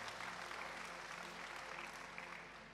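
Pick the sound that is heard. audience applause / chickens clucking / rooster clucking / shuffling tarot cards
audience applause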